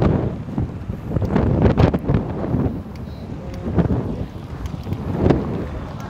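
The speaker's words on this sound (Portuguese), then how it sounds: "O vento está muito forte hoje aqui." Heavy wind buffeting the microphone outdoors in Tamandaré, Pernambuco, producing loud low rumbling gusts that rise and fall throughout.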